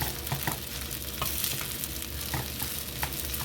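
Rice and vegetables being stir-fried in a pan, a continuous loud sizzle broken by frequent scraping, clattering stirs of the utensil against the pan, close up with no talking.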